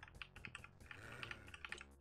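Quick, uneven clatter of computer keyboard keys pressed while playing Doom with keyboard-only controls, a soft and close run of taps with no voices.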